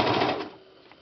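A brief burst of fast mechanical whirring from a serger stitching fabric close by, fading quickly as the stitching slows to a stop.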